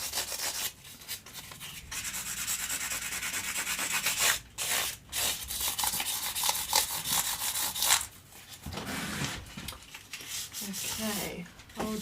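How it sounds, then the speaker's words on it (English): Sanding a guitar build by hand with 600 grit sandpaper, rhythmic rasping strokes with short pauses, close and fairly loud, with some speech between strokes. "Okay, so this is 600 grit. I think the one before was 500."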